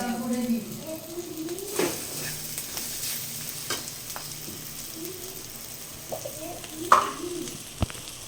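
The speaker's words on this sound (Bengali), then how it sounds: "কাঁকড়া ভাজা" Crabs frying in a pan for a spicy Bengali crab curry, giving a soft, steady sizzle with occasional stirring scrapes and clinks; faint voices murmur in the background.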